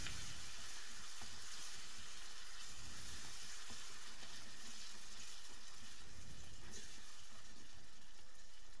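Chicken pasta sauce with crème fraîche stirred in a pan, a constant soft bubbling sizzle with gentle repeated stirring strokes, close and steady with no talking.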